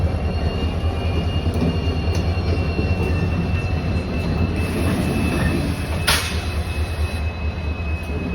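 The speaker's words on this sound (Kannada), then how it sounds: "ಲೋಕೋಮೋಟಿವ್ ಬರ್ತಾ ಇದೆ ನೋಡ್ರಿ" A locomotive rolls into Mysuru Junction, its rail noise steady and loud throughout with a sharp high squeal near the end, no voices present.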